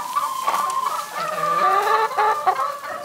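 Several chickens cluck and murmur close by in extreme winter cold, a busy overlapping chatter of short calls with no talking.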